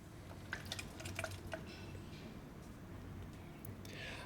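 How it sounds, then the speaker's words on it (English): Old fuel drains from a dirt bike tank through a temporary hose into a catch container, a faint trickle and scattered drips heard close and quiet, with no talk. "We're going to drain the tank of fuel."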